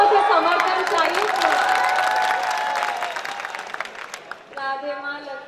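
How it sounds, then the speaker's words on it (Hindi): Audience applause at a Hindi poetry gathering (kavi sammelan) in Jhalrapatan, a dense wash of clapping from a large crowd with some cheering, fading slightly before a short burst of music near the end. "मुझे तालियों से समर्थन चाहिए"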